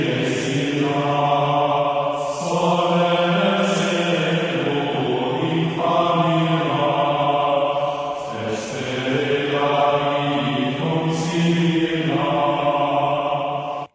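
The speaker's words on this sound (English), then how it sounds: "That piece of music is called the Dies Irae" The Dies Irae, a Gregorian chant tune, heard as a continuous sung or played melody of sustained harmonic notes with steady phrasing, loud and close throughout, with no speech over it.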